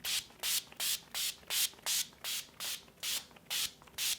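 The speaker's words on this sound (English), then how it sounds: "I'm gonna go ahead and spritz the whole face." Eleven quick, even spritzes of setting spray onto a face in steady rhythm, each a short hissy burst with brief gaps, close by and with no talking.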